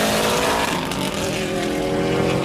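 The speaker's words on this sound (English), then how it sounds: "That exhaust note is distinctive because Subaru uses a boxer engine." A loud, throaty Subaru Outback XT boxer engine exhaust rumbles continuously with a steady, thrumming drone, close by and dominant, no voices.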